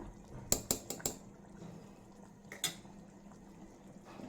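A metal spoon stirs cashew mutton curry in a steel pot, giving a quick run of four sharp clinks against the pot, a pause, then two more, over a faint low simmer in a quiet kitchen.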